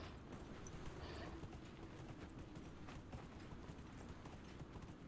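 A horse gallops in the video game Dragon Age: Inquisition, its hoofbeats a faint, steady rhythmic clatter that carries on throughout without any talk.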